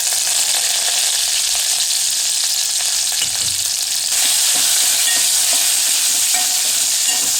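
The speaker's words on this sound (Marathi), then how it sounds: "आपण करी लीव्स टाकूया." Curry leaves drop into a hot cumin-and-garlic tadka for dal, setting off a loud, continuous close-up sizzle and crackle that swells slightly partway through, with no voices over it.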